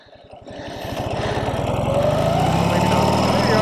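A Ural two-wheel-drive sidecar motorcycle engine idles low and then revs up steadily as the clutch engages in reverse, a close, even mechanical drone that grows louder and holds.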